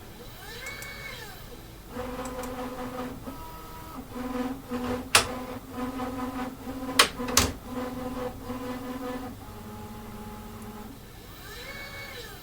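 A dual-toolhead 3D printer swaps from one toolhead to the other and homes to its reference point. Close stepper motors whine in rising and falling tones, with several sharp mechanical clacks mid-move, all without talk.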